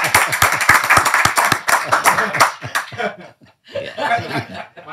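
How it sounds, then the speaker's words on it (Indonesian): Studio audience clapping with chuckles and laughter mixed in, a dense burst of hand claps for about three seconds that thins out, then a short pause before murmuring and voices return. "Tepuk tangan."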